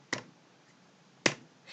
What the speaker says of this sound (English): can you guys hear me clapping my hands?